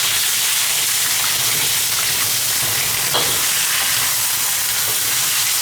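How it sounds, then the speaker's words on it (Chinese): Fish bones fry in hot lard and rapeseed oil in a wok, a steady loud sizzle and hiss with faint stirring scrapes, no voices. "把鱼骨头煎香，这样烧出来的汤才浓才安逸"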